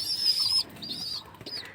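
Pigeon chicks beg for food in a series of shrill, squeaky cries, close by and loud, in three bursts with brief gaps and soft wing flutters between them.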